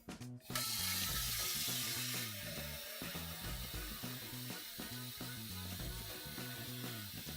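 Tap water runs steadily into a cooking pot for poaching fish, a continuous rushing splash that stays fairly loud across the whole stretch, with no talking over it.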